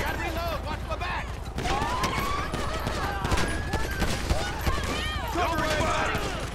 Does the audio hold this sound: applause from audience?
no